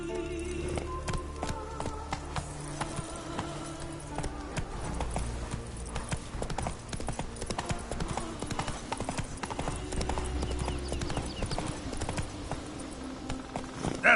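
Roach the horse gallops in Witcher 3, with fast, rhythmic hoofbeat clip-clop sounding close and steady over ambient game music and effects.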